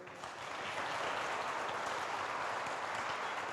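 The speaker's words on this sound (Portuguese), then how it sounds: "Você pode aplaudir o Senhor?" Congregation clapping during a church service, a dense, even wash of applause that swells in and holds steady for a few seconds.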